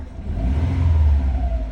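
A Subaru WRX engine idles and revs slightly while warming up on a cold morning, a close, steady low rumble with a faint whine rising above it.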